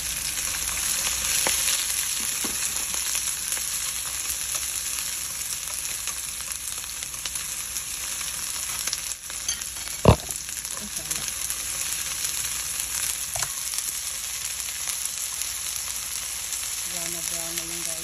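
Browned garlic and onion frying in a pan for spaghetti peperoncino, a steady loud sizzle with occasional soft stirring and a single sharp knock near the middle.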